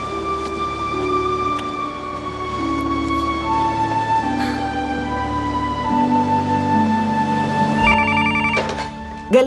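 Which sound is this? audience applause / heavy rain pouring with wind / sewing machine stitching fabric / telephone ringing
telephone ringing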